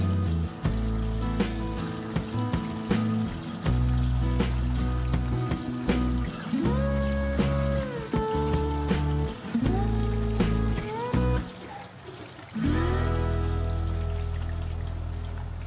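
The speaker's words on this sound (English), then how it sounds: "Fry kebab on medium heat for 2 minutes on each side until golden." Chapli kebab patties, a Pakistani minced-meat kebab coated in corn flour, fry in hot oil over medium heat with a steady crackling sizzle that runs close and unbroken the whole time, and no one speaks.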